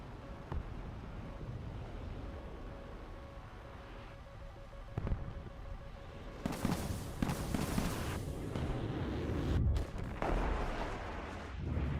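Missile launches and explosive blasts from the combat video game War Thunder, with a sharp bang early, then a loud roaring whoosh and rumbling bursts over steady engine and wind noise.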